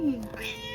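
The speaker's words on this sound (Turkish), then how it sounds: "Nasıl miyavlıyor anneciğim bu?" A cat gives a single short, high meow close by, gliding downward in pitch, followed by faint background tones.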